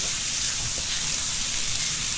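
Shrimp sizzles in a stir fry over high heat, giving a continuous, even hiss that stays close and loud throughout.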